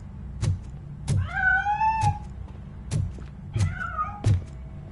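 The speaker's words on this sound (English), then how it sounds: "That cat must be hiding inside." Cat meowing in the video game RoboCop: Rogue City: two drawn-out, rising-and-falling meows, close and clear, separated by dull thuds.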